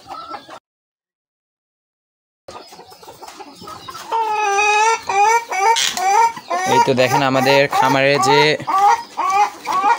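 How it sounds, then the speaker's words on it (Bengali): Brahma hen on a farm clucking in a run of loud, close calls that grow busier toward the end, with someone talking over part of it. "যে ব্রাহ্মা মুরগিটা আছে ওইটা ডাকতেছে, মানে হচ্ছে ডিম পারবে মনে হয় আজকে, এই জন্য ডাকাডাকি করতেছে।"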